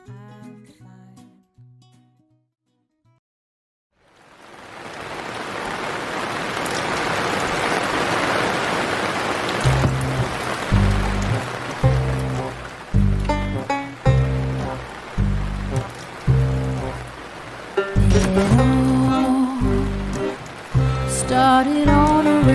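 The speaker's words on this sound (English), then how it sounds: "Started on a rainy day." Steady rain falls loudly and continuously for most of the stretch, a broad hiss that fills the space, with a rhythmic thumping beat and a tune entering partway through over the downpour.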